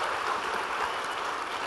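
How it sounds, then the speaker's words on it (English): Steady broadband wash of audience applause at a progressive policy talk event, a dense even patter of many hands held at a constant moderate level for the whole stretch, with no voices standing out. "yeah, that's a round of applause"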